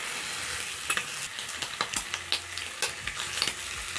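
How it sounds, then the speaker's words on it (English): Bacon frying in a pan, with a soft continuous sizzle under irregular scraping and tapping of a utensil stirring it, close and moderately quiet. "So as my bacon cooks, I have potatoes."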